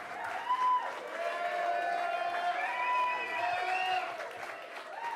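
A crowd at a Black History Month reception cheers and applauds for Congressman Hakeem Jeffries, steady clapping and whoops filling the room at moderate distance.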